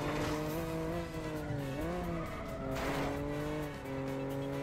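Cars on a Bucharest street in 007 Agent Under Fire: a loud, steady engine drone with shifting pitch and tire squeals as vehicles push and grind close by, with no talking.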